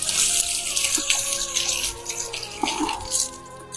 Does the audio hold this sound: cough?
no